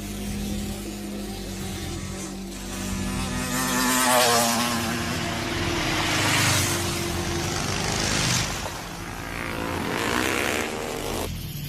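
Motorcycle engine droning and revving, swelling and easing over several seconds in a continuous buzzing whine, no voices.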